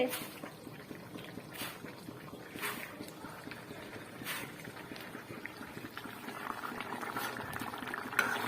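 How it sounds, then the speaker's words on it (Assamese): Meat boiling in a pot on a home kitchen stove, a steady bubbling simmer with soft intermittent pops, close and moderately quiet throughout. "এফালে মাংস উতল আহিছে হৈছে"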